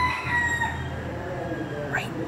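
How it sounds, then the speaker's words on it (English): A rooster crows outdoors in Key West, Florida, its drawn-out call carrying over steady ambient background noise with faint voices nearby. "there are rooster thingies"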